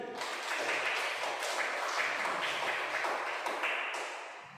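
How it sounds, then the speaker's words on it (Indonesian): A class of students claps together after finishing their group analysis and discussion, a dense, steady patter of many hands filling the room at moderate volume before tapering off near the end. "Luar biasa, kita berikan tepuk tangan sekali lagi."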